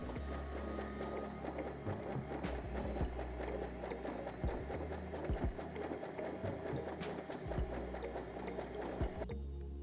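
A Brother LX17 budget sewing machine stitches steadily through eight folded layers of fabric, a continuous fast whirring hum with rapid needle clatter running the full length at close range, with no talk.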